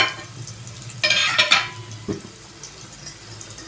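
Onion pieces drop into hot tempering oil for a ridge gourd and dried shrimp curry, setting off a sudden loud sizzle that fades into a steady crackle, with a few light utensil clinks.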